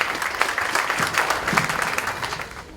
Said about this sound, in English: could you kindly join me in another round of applause